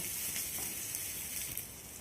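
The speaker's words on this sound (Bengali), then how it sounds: "রসুন আর আমি এই কাঁচা পাকা লঙ্কাটাকে প্রায় মিনিট খানেকের জন্য ভেজে নেব" Garlic and fresh green and ripe red chillies sizzle steadily in hot oil in a pan, a continuous close crackling hiss with no talk.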